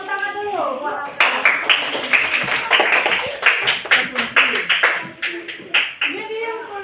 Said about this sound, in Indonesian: tepuk tangan dulu buat Alka